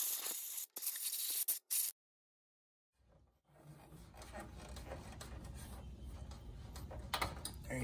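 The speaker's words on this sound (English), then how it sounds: "This just gives you access to get down in there and blow some air." Compressed air blowing grass clippings out of a Kubota zero turn mower deck, a steady hissing rush after a few sharp bursts and a pause, close and fairly loud.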